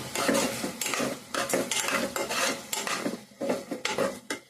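Masala frying in a pan until the oil separates, with bursts of metal spoon scraping and clanking against the pan over a soft sizzle, in uneven rhythmic strokes, no voices.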